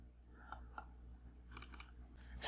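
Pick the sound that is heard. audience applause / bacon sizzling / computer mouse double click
computer mouse double click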